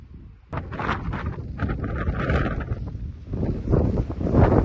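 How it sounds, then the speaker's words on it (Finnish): Gusty wind buffets the microphone outdoors on a solo wilderness hike in Vätsäri, Finland, a loud low rumble that swells and rises toward the end with no talk. "Vähän on tuulista säätä."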